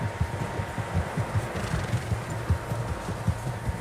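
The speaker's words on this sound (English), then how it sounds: "Horses, quite a few of them." Several horses' hooves clop in a steady, rhythmic pattern in Red Dead Redemption 2, moderately close, with a low ambient hum underneath.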